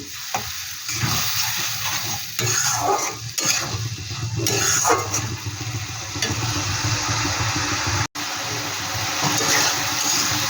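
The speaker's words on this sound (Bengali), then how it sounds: "এবার মশলাটাও একটু ভালো করে কষিয়ে নিই" Masala sizzles and is stirred in a hot oily pan while being sautéed for an Amudi fish curry, a steady close frying hiss with scraping strokes throughout and one brief dropout near the end.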